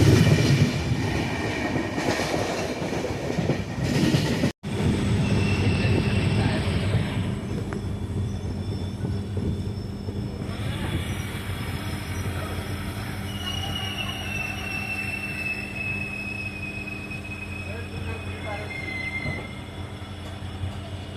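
A tourist express train runs on rails through forest country with steady rumbling, clickety-clack and long high wheel squeals, continuous and fairly near.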